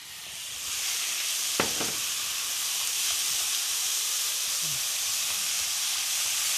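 Oyster mushrooms sizzling and stir-frying in a pan with a little oil and water, a steady broad hiss throughout with a few utensil scrapes and taps near the start.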